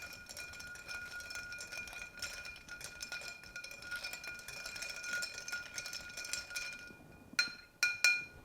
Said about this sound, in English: Now use your bar spoon to stir until well chilled.